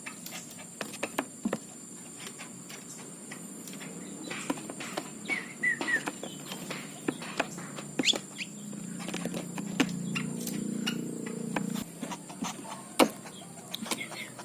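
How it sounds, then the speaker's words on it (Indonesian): Small birds, including magpie robins, chirp and tweet in short, scattered calls from near and far. A young bird being hand-fed adds a brief burst of soft, rapid begging noise partway through, with no talking. "Di rumah banyak tuh burung."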